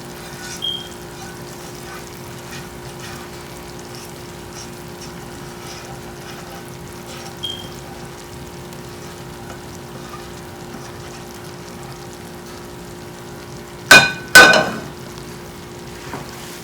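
Sugar syrup (chasni) poured into a roasting mohanthal gram-flour mixture, giving a sudden loud double burst of sizzling and splashing late on after a long stretch of low, steady kitchen hiss.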